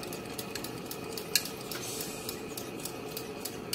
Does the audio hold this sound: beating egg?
yes